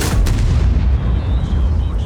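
A heavy tank cannon blast from a 60TP Lewandowskiego in a video game, on the Ruinberg map, booms at the start, its low rumble rolling on and decaying over the following seconds.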